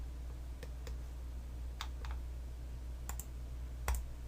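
Sparse key presses on a computer keyboard during After Effects CC 2020 motion graphics work, a few scattered soft clicks and a close pair of taps over a low steady hum.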